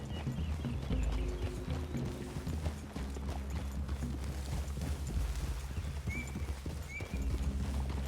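Several horses walk through a clearing in Red Dead Redemption 2, their hooves clip-clopping in an irregular, continuous patter with heavy low rumbling underneath and faint bird calls.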